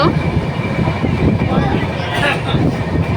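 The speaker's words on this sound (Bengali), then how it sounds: "ট্রেনের স্পিড এখন 95-94, দেখতেই পাচ্ছ" Jammu Tawi Express running at about 95 km/h, heard from inside as a loud steady rumble and rushing roar, with a person speaking over it.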